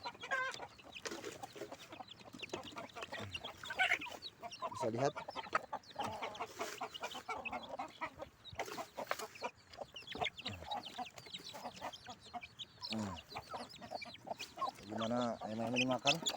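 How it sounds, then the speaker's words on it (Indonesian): Flock of chickens clucking and murmuring steadily while pecking at fermented feed made from kitchen waste, with someone talking over them throughout. "Lihat bagaimana ayam-ayam ini makan fermentasi semua"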